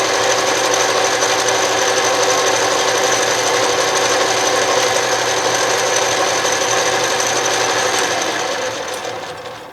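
An Atlas Craftsman metal lathe running steadily with the carriage traveling on power feed, a loud continuous mechanical whir and gear hum with a high whine, heard up close and alone, easing off at the very end.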